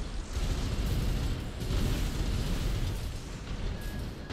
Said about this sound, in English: Oh, that napalm wasn't the best